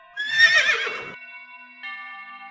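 A cartoon horse whinnies loudly and close in a single drawn-out neigh that fades into a steady tonal effect ringing on after it, with no voices.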